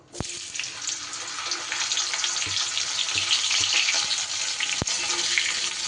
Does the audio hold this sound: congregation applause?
no